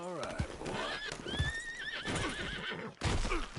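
A horse in Red Dead Redemption 2 neighs and whinnies repeatedly while hooves clip-clop nearby, mixed with game sounds and people talking over it.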